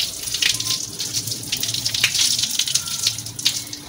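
Tap water running steadily into a sink while a dummy is washed, a close, continuous splashing gush with small spatters, no talking over it.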